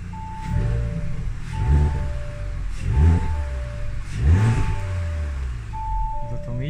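An Audi S5 Coupe engine idling and rising in a few slow revs, a steady low rumble with a faint whine above it and no talking.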